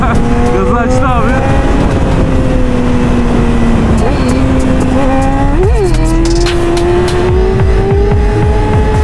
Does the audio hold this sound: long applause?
no